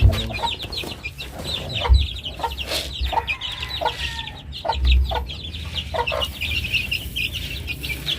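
Rhode Island chickens and young chicks clucking together on a farm, with repeated soft clucks and peeps close by, one louder hen call standing out and occasional wing flaps.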